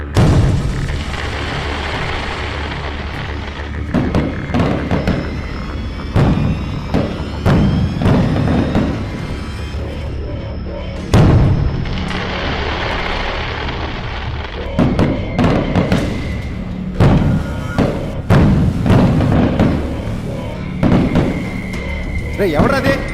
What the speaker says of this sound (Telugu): ఈ టైంలో ఎవడరా బాంబులు పిలిచేది?